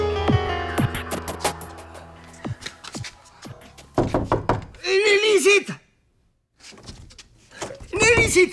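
Several sharp knocks on a door in a Spanish-language TV sitcom scene, a quick run of raps over the first few seconds, followed by loud, emotional shouting voices.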